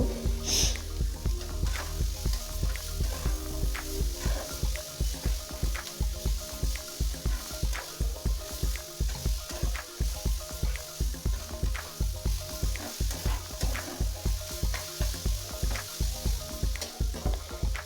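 Cut eggplant and tomato fry in oil with spices at medium heat, a steady sizzle over a fast rhythmic run of spoon-against-pan scraping and tapping, close and even.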